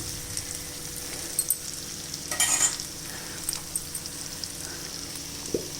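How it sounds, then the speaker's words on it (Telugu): Brinjal fries in a pan on a low flame with a low, steady sizzle, a brief louder burst of crackling and a few soft stirring clicks; no voices. "ఇట్లా సిమ్లో పెట్టి కొంతసేపు వేస్తేనే వంకాయ బాగా వేగితేనే కూర కూడా బాగా టేస్ట్ ఉంటుంది"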